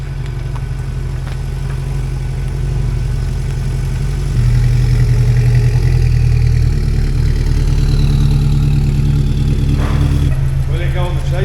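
A car engine runs at idle after the service reminder is reset, a steady low throb that grows louder partway through, with a brief rev near the end. A person talks over the engine noise.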